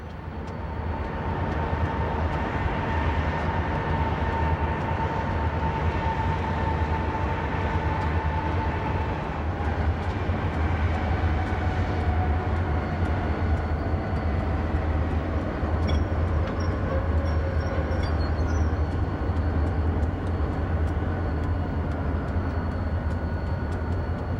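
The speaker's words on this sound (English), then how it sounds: "CSX Q340 eases up to the signals at Winton Place with a grand trunk engine in its consist" A CSX freight train rumbles steadily as it eases up to signals at Winton Place, Cincinnati, with a Grand Trunk locomotive in the consist: a loud, continuous low engine drone with faint wheel and rail noise, no talk.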